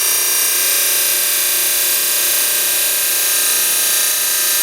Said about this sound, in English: I'm going to grind the top until the bottom meets the disc